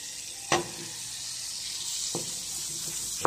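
Garlic sizzling in melting butter in a frying pan, a steady close hiss throughout with a couple of sharp clicks from the pan or utensil.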